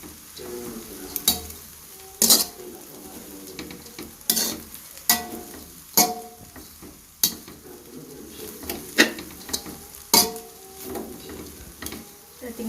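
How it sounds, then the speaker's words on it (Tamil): Vegetables for prawn kottu roti are stirred in a pan over low flame, a metal spatula scraping and knocking in irregular strokes about every second over a soft sizzle, close by with no talk. "அப்படி நல்லா உங்களோட அடி கொடுத்து உங்களோட மரக்கறியை கிண்டிக்கோங்க"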